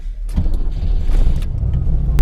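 A TVR sports car pulls away from a quiet evening car meet, its engine a close, loud, deep rumble holding steady from start to finish, with a few faint knocks from the cabin.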